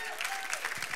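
Recorded applause sound effect of a crowd clapping, played along with game show music during an online church campus broadcast; steady dense clapping fills the second, with a faint voice underneath.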